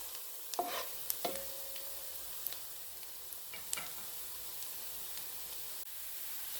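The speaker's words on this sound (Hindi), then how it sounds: "अब हम थोड़ा और पकाएंगे, प्याज को हल्का और गोल्डन करेंगे" Onions frying toward golden in a pan for egg khagina, a soft steady sizzle with a few light taps and scrapes of stirring.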